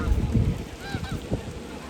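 Ducks quack and honk a few times nearby in Victoria Park over a background of outdoor noise.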